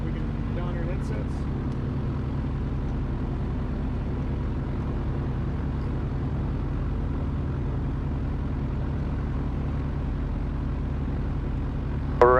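An ICON A5 light aircraft's engine run up to about 2,500 RPM makes a loud, steady, even drone that holds unchanged for the whole stretch, with no breaks or swells.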